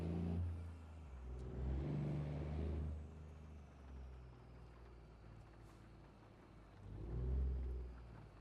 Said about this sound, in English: That just kind of sounds like that engine belongs in this truck.